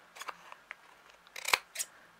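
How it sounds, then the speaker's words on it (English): Quiet snips of scissors cutting paper, a few light crisp clicks spaced irregularly with one louder snap near the end, close by in a still room. "just take my big scissors and trim"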